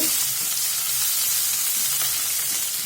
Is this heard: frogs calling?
no